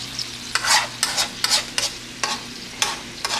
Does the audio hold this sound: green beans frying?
yes